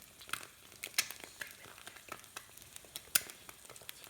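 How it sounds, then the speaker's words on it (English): An egg frying in a pan gives a faint, steady crackle and sizzle, with scattered small pops and spits, nearby and quiet, no voices. "you can just listen to the sound of a glorious egg"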